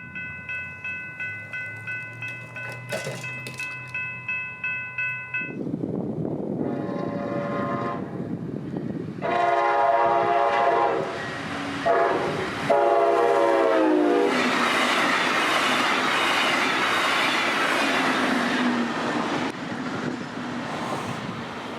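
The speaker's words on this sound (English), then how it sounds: "Finally, 920 would get the light to head back south towards Fort Pierce, now pulling Long Hood forward with a sizable train." Florida East Coast Railway freight train 920 heading south toward Fort Pierce: a rhythmic crossing bell, loud blasts of the horn, then rumbling locomotive and rolling cars passing close with steady clatter.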